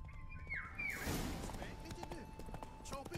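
Roach the horse from The Witcher 3 gallops with steady hoof clip-clop in the game, with a brief whoosh and a snort or whinny early on, while a voice talks over the hoofbeats.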